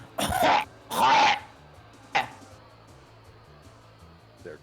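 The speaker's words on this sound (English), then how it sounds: "she gets a nasty coughing fit" A woman's character coughs harshly in a short fit in a wrestling video game: two long, rough bursts followed by a smaller cough, with quiet game background music underneath.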